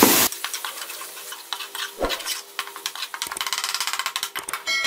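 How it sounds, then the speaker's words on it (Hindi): Masala with green chillies and chopped tomato frying in a pan, a hiss of sizzling under quick scraping stirs that speed into a rapid rhythmic clatter, near and moderately loud. "अब हम इसको मजीद आधा मिनट जो है वो भून लेंगे"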